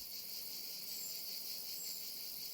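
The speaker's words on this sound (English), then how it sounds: "the music of the grasshoppers and cicadas marks the beginning of summer" A steady, high-pitched chorus of grasshoppers and cicadas buzzing and chirping continuously in a vineyard in early summer, fairly faint, with no other sounds.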